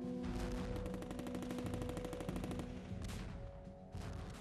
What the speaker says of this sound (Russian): Пулеметы со скорострельностью 600 выстрелов в минуту простреливали каждый дюйм за колючей проволокой.